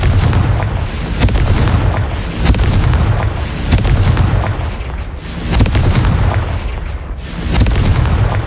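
Repeated loud blasting-spell explosions in a Harry Potter film battle, a dense run of heavy booms and crackling bursts swelling and fading in waves with no pauses.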